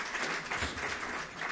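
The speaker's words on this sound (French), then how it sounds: "l'applaudissement pour l'OFAGE" An audience at the opening of a Franco-German association congress in Nantes applauds the OFAJ, a short, steady burst of many hands clapping in a hall, with no speech on top.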